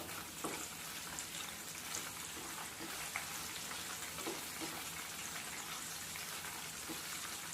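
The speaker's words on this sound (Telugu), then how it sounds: "చాలు తాలింపు వేగిపోయింది" Steady crackling sizzle of onions frying in hot oil for a tempering, broadband and continuous with small pops scattered throughout, no voices.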